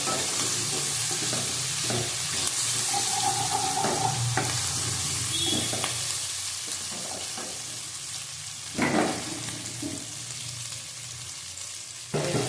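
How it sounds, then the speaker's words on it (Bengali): Steady, dense sizzling of food frying in a pan, with a few soft stirring scrapes and clinks rising briefly above the hiss. "আস্তে কমিয়ে ভাজবে, লো ফ্লেমে ভাজলে তখন এটা খুব ভালো হবে।"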